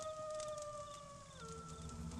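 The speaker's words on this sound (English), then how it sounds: "I reckon it's just some coyotes." Coyotes in an animated Wild West cartoon howl in a long, smooth, wavering tone that slides downward and then levels out, steady and moderately loud with no voices.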